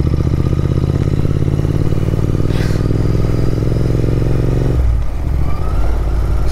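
A Royal Enfield Interceptor 650 and a Triumph Speed 400 ride rough off-road terrain, their engines droning loudly and steadily with clatter and scraping, the engine note dropping near the end.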